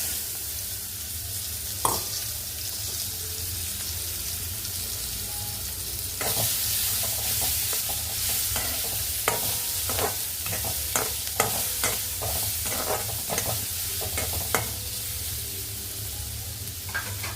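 Chopped cucumber is stirred in a hot pan while making a buttermilk palade, or tambuli, with a continuous sizzle under repeated sharp scrapes of the spoon that come faster toward the end.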